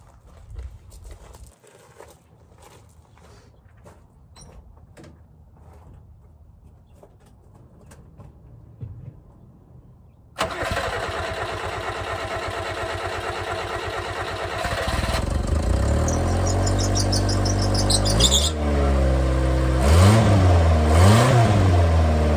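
A Subaru Sambar with a suspected air-fuel solenoid fault cranks slowly with rough ticking before the engine catches at once and roars to a loud, steady idle, then revs up and down in rising and falling swells.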